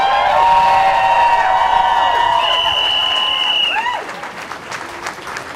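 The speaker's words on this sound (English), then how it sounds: "can we give a massive round of applause to LGBT Noise for a fantastic march today" A crowd at an outdoor marriage-equality rally after a march breaks into loud, sustained applause with whoops and high cheering shouts, which taper off toward the end.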